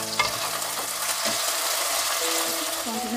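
Tomatoes are mixed and fried with potato and spices, a dense sizzle under a few scraping stirs and a faint tonal hum, with no talking.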